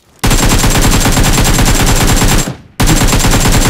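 Automatic gunfire in PUBG Mobile: a loud, sustained rapid burst of shots rattling continuously for about two seconds, a brief pause, then another loud burst starting up again.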